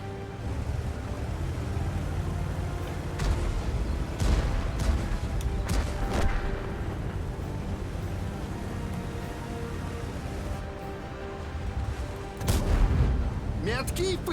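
Heavy tank cannon shots from a Japanese Type 63 in an online tank battle game: several sharp booming reports, two or three close together in the middle and another near the end, over a steady engine rumble.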